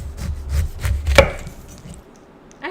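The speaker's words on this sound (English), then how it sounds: "So I always start by cutting the top and bottom off the pineapple." A knife cuts through the top and bottom of a slightly underripe pineapple on a board, giving a few close, dull chopping thuds with one sharp crunch in the middle.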